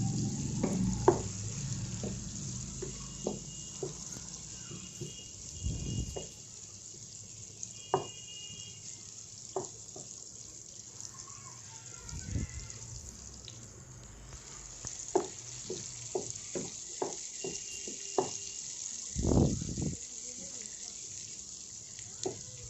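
Onions fry gently in a pan for meal maker gongura curry, a low continuous sizzle under scattered spatula taps and scrapes, with a few louder stirring bumps and rustles along the way.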